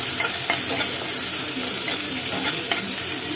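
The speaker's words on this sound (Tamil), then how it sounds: "இப்போ இதையும் சேர்த்து நல்லா வதக்கிக்கலாம்" Shallots and grated ginger sizzle and hiss steadily in a hot pan while being sautéed, with occasional stirring scrapes and no talk.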